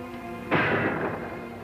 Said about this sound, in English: That gun again.